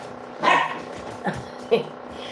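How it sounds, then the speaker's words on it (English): A puppy gives a few short, high yips and barks, one louder bark and then two quicker ones, close by during a live stream with someone talking. "Sammy Winchester, the puppy, he like grabbed and pulled my hair tie out"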